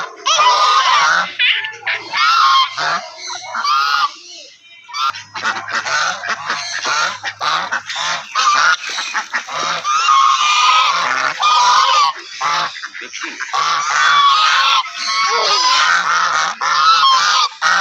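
Turkeys gobbling and geese honking at an animal attraction in Trichy, loud and repeated harsh calls filling most of the time, with a voice speaking briefly among them.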